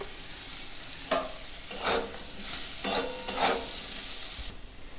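Paneer and vegetables being stirred into frying onions in a pan for paneer poha, with a steady sizzle broken by several scraping stirs at irregular intervals, close and fairly loud, no voices.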